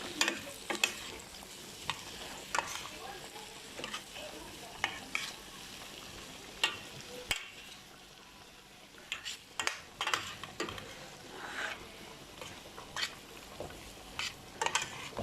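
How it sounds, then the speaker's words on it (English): Mutton mince curry with potatoes being stirred in a pot, a spoon scraping and clicking against the sides in repeated strokes over a steady sizzle and bubbling, close by with no talk. "So it's going to give this a bit of stir as well."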